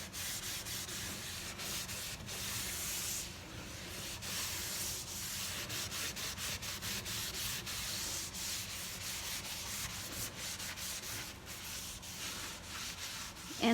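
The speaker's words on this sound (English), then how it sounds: "And I just keep on scrubbing." Surface scrubbed by hand while still wet, a steady rhythmic rubbing scrape repeating closely and continuously, fairly quiet and alone with no talk.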